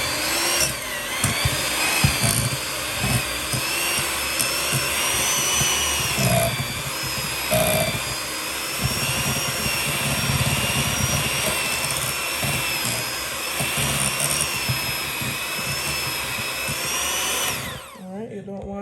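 An electric mixer on low beats softened cream cheese in a bowl for a cheesecake, giving a close, steady whirring motor hum with a faint scraping rattle that runs almost nonstop before stopping near the end.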